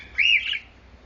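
A pet bird that had been trying to peck lets out one loud, harsh squawk at close range, a brief rising-and-falling screech with no voices over it.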